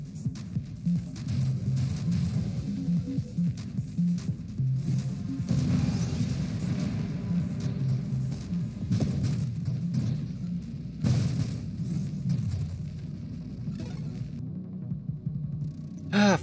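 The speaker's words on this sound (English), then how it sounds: "Watching all these explosions against that orbital shielding." Continuous booming and throbbing explosions batter orbital shielding in the space shooter Nova Drift, a dense low rumbling barrage with whooshing bursts, steady and loud throughout.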